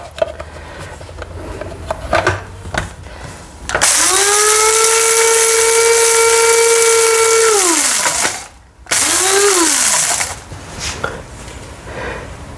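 An electric grinder pulverises dried curry leaves for a cassava batter: a loud, steady motor whine runs for several seconds, winds down, stops briefly, then restarts for another short burst before cutting off.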